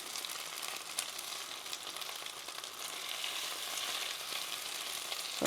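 Garlic ginger pork sizzles and fries in a pan just after being flipped, a steady crackling hiss with scattered pops that swells slightly louder toward the end, with no talking.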